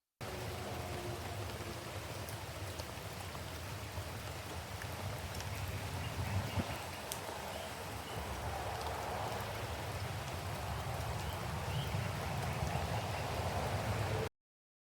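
Steady rain falls outside a tiny off-grid home, a constant broadband hiss of drops on surfaces that holds level for the whole stretch with no voices.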